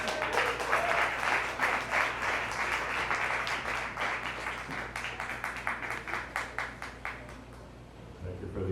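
A comedy show audience applauds steadily for several seconds, dense clapping that gradually thins and fades toward the end.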